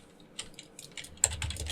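Someone types a command on a computer keyboard, producing a quick run of close, crisp key clicks that grows denser and louder toward the end, with no talking.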